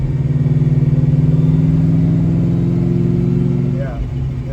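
A supercharged car engine runs with a steady, loud droning hum and a pulsing mechanical tone, holding even for several seconds before the revs ease off at the end.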